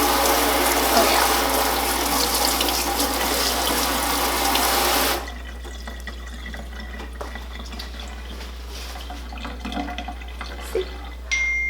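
A makeup brush is rinsed under a running tap, a loud continuous rush of water that stops abruptly halfway, leaving quieter drips, trickles and small handling noises.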